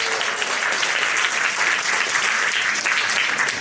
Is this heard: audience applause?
yes